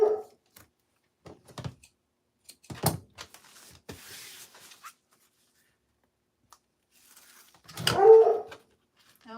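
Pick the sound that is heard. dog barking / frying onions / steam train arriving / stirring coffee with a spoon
dog barking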